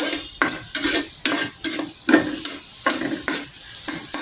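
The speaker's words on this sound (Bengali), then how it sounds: "সুন্দর করে ভেজে নিবা তোমরা পেঁয়াজটা। পেঁয়াজটা অবশ্যই লাল করতে হবে" Onions fry in a pan for a vegetable-stem curry, a continuous sizzle broken by about ten rhythmic scraping strokes of a spatula stirring them, close and fairly loud, with no voices.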